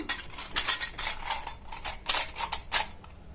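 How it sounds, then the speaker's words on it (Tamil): A metal mould disc being fitted into a murukku press for omapodi: a series of sharp clinks, scrapes and rattles of metal parts knocking together, close and irregular, with no talking. "இந்த அச்சு வச்சு தான் ஓமப்பொடி பிழிய போகிறோம். இதை இதில் சேர்த்துட்டு இந்த முறுக்கு உலக்கில் வந்து இதை ஃபிக்ஸ் பண்ணிடலாம்."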